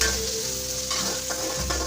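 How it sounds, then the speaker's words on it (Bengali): Three or four dried red chillies and a spoonful of cumin seeds fry in hot oil in a pan for a Bengali rohu fish curry, making a steady close sizzle broken now and then by stirring. "তিন চারটা শুকনো মরিচ দিয়ে দেবো দিয়ে দেবো এক কাপ এক চামচ পরিমাণ জিরা দুই মিনিট ভাজা হয়ে গেলে"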